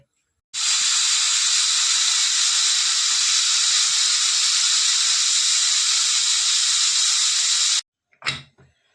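A pressure cooker releases a long, loud, steady jet of whistling steam for about seven seconds, cooking jackfruit seeds with vegetables; it cuts off abruptly, followed by a couple of brief clanks.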